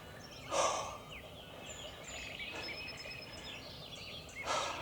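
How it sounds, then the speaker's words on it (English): A wild turkey gobbler gobbles loudly twice at a distance in mountain terrain, echoing, with birds chirping and twittering in the background between the calls. "Large masses of dirt and rock can really affect the way a gobble sounds."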